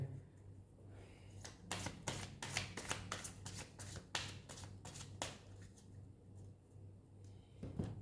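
Tarot cards are shuffled by hand in a quick run of crisp riffling flicks and slaps, close and clear against a quiet room, tapering off toward the end.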